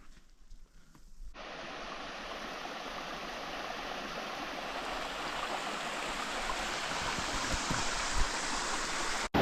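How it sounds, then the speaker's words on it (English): Rushing water of the White Chuck River, heard from a bridge on a mountain trail, as a loud, steady broadband roar that swells in quickly after a quiet start and holds throughout. "After crossing this bridge over the rushing waters of White Chuck River"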